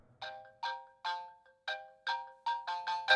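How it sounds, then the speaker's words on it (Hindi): A phone ringtone plays a short repeating melodic pattern, each burst of tones separated by brief pauses, clear and alone. "फोन लगाओ उसे फिर से"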